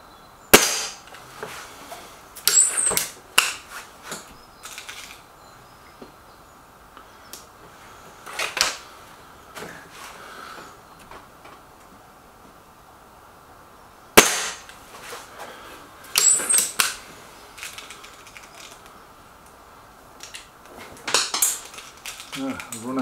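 Sharp, quiet pops from a Gamo Whisper Sting air rifle fired at outdoor targets, spaced several seconds apart in small clusters, with soft handling clicks between shots.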